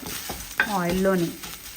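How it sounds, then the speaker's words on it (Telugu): Karonda (vakkaya) berries fry in hot tempering oil while being stirred, giving a short soft sizzle and scraping stir, close by, with a brief voiced sound overlapping. "ఆ పోపులో ఇలా వాక్కాయని ఒక్క 10 నిమిషాలు ఇలా ఫ్రై చేసుకొని"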